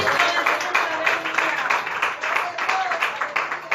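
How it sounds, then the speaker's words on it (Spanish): Pentecostal church congregation clapping in rhythm during a sermon, a steady run of claps mixed with voices and faint musical tones. "Regale bonita las palmas al Señor."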